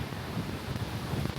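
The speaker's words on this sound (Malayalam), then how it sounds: "ഓ എന്താ കാറ്റ്!" A strong gust of wind sweeps through the forest on the Agasthyarkoodam trek, a dense, low, rumbling rush buffeting close to the microphone with no voices.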